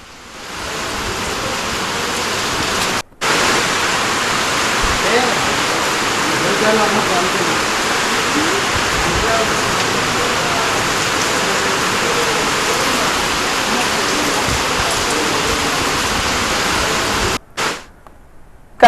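Floodwater rushes steadily around the submerged Pochamma temple at Devipatnam during heavy Andhra Pradesh rains, a dense, continuous roar of flowing water, close and loud, broken only by two brief dropouts.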